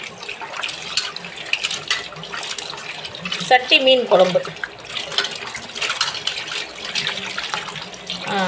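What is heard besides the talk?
water running from tap washing fish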